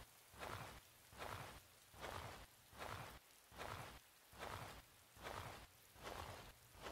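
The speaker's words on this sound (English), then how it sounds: "In the rain." Rain falls in a scary woods game, with a soft, faint patter rising and falling in regular pulses about every 0.7 seconds, quiet and without voices.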